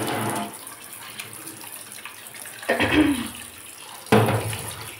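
Fish rinsed under a running kitchen tap, with water pouring steadily close by and two louder splashing bursts as the fish are moved under the stream.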